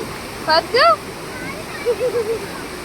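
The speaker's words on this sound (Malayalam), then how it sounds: "നല്ല ശക്തിയുള്ള വെള്ളം തന്നെയാണ് വരുന്നത്" Strong river water rushes over a check dam on the Gayathri River at Alathur, roaring steadily, loud and close, while a few short vocal sounds and chirps break over it.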